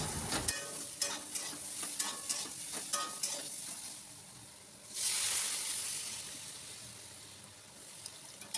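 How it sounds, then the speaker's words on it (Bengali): Mixed vegetables with salt and turmeric fry in oil while a spoon stirs them, giving repeated scraping clatters over a constant sizzle that swells into a louder hiss partway through. "এইবার খুব ভালো করে একটুখানি ভাজা ভাজা করে নেব"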